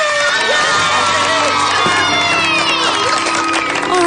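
Excited children cheer and shout together in a sustained, loud roar of overlapping high voices, steady throughout with occasional whoops rising above the din.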